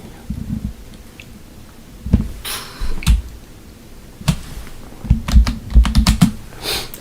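Computer keyboard keys tapped in uneven bursts, close and crisp, with pauses between flurries of clicks and no talking.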